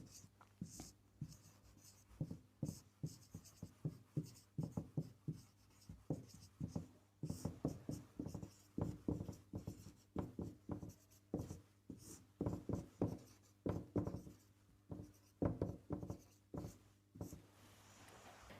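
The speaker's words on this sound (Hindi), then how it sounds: "तो ये हमने लिख दिया सूत्र," A pen writes a formula for the area of a rectangle on paper, rhythmic scratchy strokes in quick bursts with short pauses, close and quiet, no talking.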